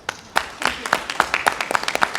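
Scattered clapping from a small group at a public meeting, irregular and fairly close, with a voice briefly audible at the start.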